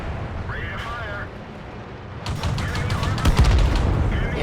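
Artillery fires in a tank battle video game, giving a burst of heavy booms and rumbling blasts over a few seconds. The shots sound fairly loud beneath an excited commentator talking throughout.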